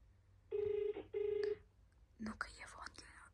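A telephone rings unanswered with two loud electronic ring bursts in quick succession, followed by quiet voices speaking close by.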